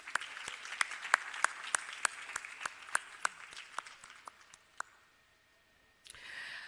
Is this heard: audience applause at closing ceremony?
yes